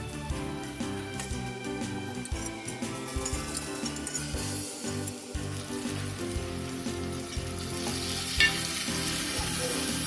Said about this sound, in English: Fry the mixture till it starts leaving oil from the sides